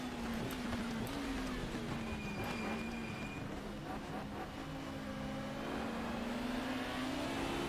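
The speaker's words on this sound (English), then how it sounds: "There's the horrible glitching of the exhaust pipes." Engine and exhaust of a 1994 British Touring Car Championship car in the GTR 2 racing game at Donington Park, a steady droning whine with a crackly, glitchy edge, loud and continuous throughout.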